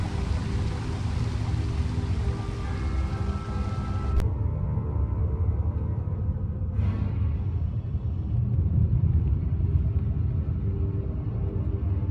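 A storm in a video game rumbles as a continuous, heavy low roar throughout, with a sharp crack partway through and a brief swell a little later.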